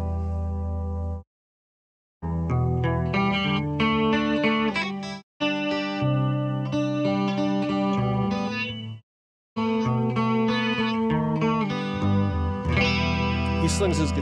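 Electric guitar on the neck pickup with a distorted lead tone, played through effects with chorus and echo, comparing a modern 80s-style Explorer and an original 1984 Explorer; loud sustained phrases broken by short silences.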